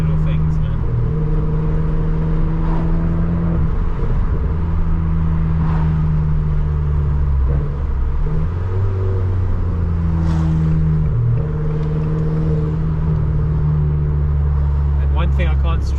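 A small Abarth 595 car engine with a catback exhaust drones and revs up and down in steady waves, loud and close, with exhaust rumble throughout.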